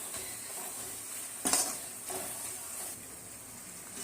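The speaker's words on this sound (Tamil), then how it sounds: "சேர்த்து நல்லா வதக்கி விட்டுக்கலாம்." Vegetables sizzle while sautéed in a pan with coriander powder, occasional stirring scrapes, one louder clatter midway; steady frying hiss throughout, no talking.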